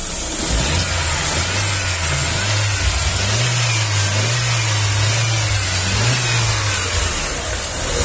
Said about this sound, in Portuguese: Acelera aí pra gente, ô seu João.